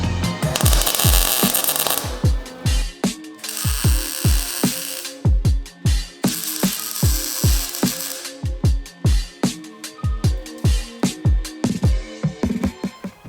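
Metal is welded on a Nissan Skyline R34 quarter panel around the pillars in a workshop, producing loud, close crackling bursts repeated in a stop-start rhythm with brief silent gaps between tacks.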